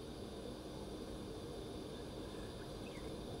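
A helicopter flies nearby, heard as a steady, dense engine and rotor drone that holds at a constant level throughout, with no voices.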